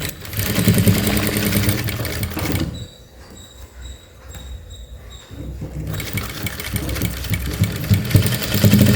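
A sewing machine stitches a uniform collar in two rapid, rattling bursts, close and loud, with a short quiet pause between them.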